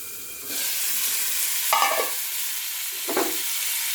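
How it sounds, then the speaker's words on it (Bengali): Small bata fish frying slowly in a pan with salt, turmeric and chilli powder, a steady sizzle with two brief louder stirring scrapes, close and alone. "ধীরে ধীরে এটা ভাজবো।"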